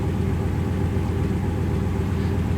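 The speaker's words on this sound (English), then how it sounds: "Idle's nice and smooth." Idle of a 1955 Buick Special Riviera two-door hardtop V8, a low, even rumble with a soft regular pulse, steady and moderately quiet throughout with no voices.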